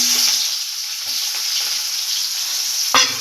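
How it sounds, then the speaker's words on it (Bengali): Onions fry in hot oil that was just used to fry bhetki fish bones, giving a steady close hiss and sizzle throughout with a single brief clunk near the end. "এবার এই তেলেই আমি পেঁয়াজ ভেজে নেব।"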